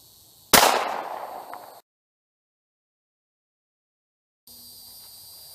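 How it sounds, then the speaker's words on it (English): One sharp, loud 9mm Glock 19 pistol shot fired at a body armor toilet seat, a close crack with a short decaying tail, followed by silence. "first shot on the body armor toilet seat, Glock 19, 9mm."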